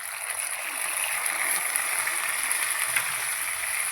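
Water goes into a pot of boiled potatoes with ginger and green chilli paste, making a steady, fairly loud hissing wash that runs unbroken and without talk.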